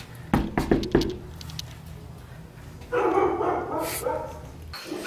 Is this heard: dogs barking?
yes